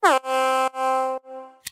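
A brassy, horn-like synth lead opens with a pitch sweep, holds three steady notes and ends with a short percussive hit.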